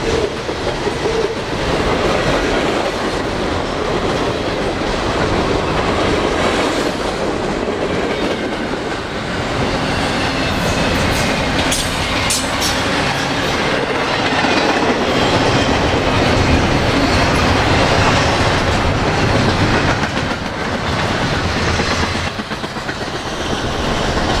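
Norfolk Southern eastbound freight trains rolling past on the Pittsburgh Line near Johnstown and Altoona, Pennsylvania: a loud, steady roar of wagons with rhythmic clickety-clack of wheels over rail joints, close by and continuous for the whole stretch, with no talk.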